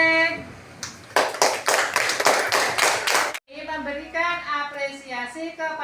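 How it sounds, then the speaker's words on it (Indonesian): A classroom group claps together in a brisk burst of applause lasting a couple of seconds, then an adult voice speaks steadily right after. "Tepuk tangan untuk kelompok C."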